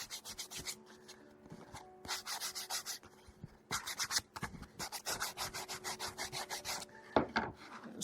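Sandpaper rubs back and forth on a wooden shaker box, loud close strokes in an uneven rhythm with short pauses between bursts, no talking.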